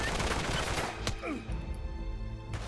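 Video game gunfire in Uncharted 3: Drake's Deception, a rapid burst of shots followed by a few sharp single cracks amid other game sounds, fairly quiet in the mix.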